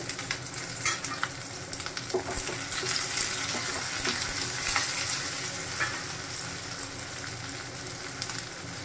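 Whole garlic cloves sizzle and fry in hot oil for shahi paneer, a steady close crackle with occasional stirring scrapes and clinks and no voices.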